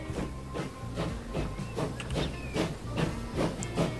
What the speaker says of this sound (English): Trains crawling up this hill.